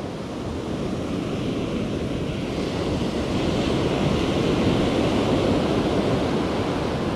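Surf on Isipingo Beach in Durban rolls in as a steady, dense wash of breaking waves, loud and close, swelling slightly midway with some wind noise on the microphone and no voices.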